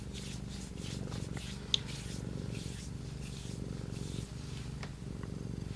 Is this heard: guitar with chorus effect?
no